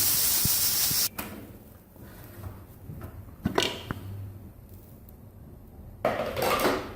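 A pressure cooker full of turnip and meat curry is opened after cooking: a strong hiss of escaping steam, then metallic clatter and clicks of the lid, followed by another loud steam burst near the end.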